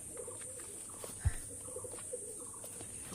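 Pigeons cooing inside a pigeon loft, soft and fairly distant, with a few low murmuring calls over a steady background hiss and one brief thump.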